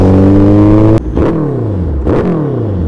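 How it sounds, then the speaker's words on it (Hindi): Suzuki Hayabusa motorcycle engine revving up close: a loud sustained high-rpm roar that cuts off sharply, followed by two quicker throttle blips with falling pitch, no talking. "थोड़ी सी बाइक खींच के देख ले फिर।"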